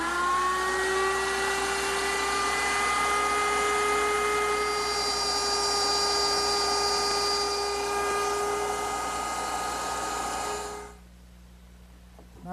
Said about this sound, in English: I have to make 2 cuts where I need to plunge the work in and push it through